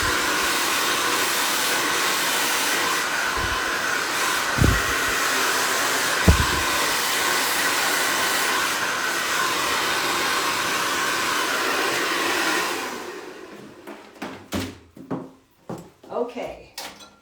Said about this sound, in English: Let's blow dry this.